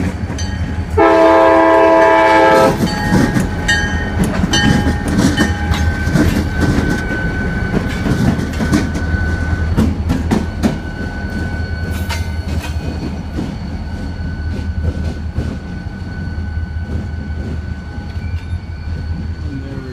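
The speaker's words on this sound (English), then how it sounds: "So now that the train's gone by, I feel a little bit safer to do this." A heavy CSX freight train with two locomotives rumbles past nearby, a loud horn blast near the start, then steady wheel clatter and squeals as the cars roll by.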